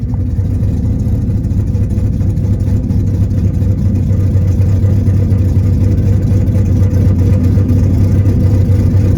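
Car engine idling during a tune-up check, a steady low rumbling hum close by with an even, unbroken drone and no revving.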